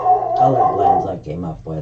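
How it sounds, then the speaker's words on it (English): A dog outside barks and howls in a drawn-out, wavering cry, fairly loud and close, while someone talks over it. "she's out there being a guard dog."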